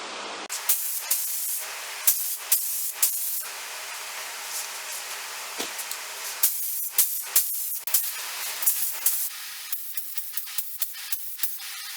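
Repeated bursts of lacquer sealer sprayed onto furniture legs, short hissing blasts of a second or so separated by brief pauses, close and steady throughout.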